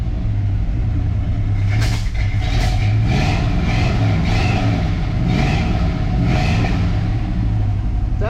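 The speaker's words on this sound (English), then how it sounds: "I think I'm gonna try and get this thing to idle a little bit" A 1966 Chevrolet C10 truck engine runs steadily at close range, a deep, loud rumbling idle with a few faint rises in pitch, and no talking.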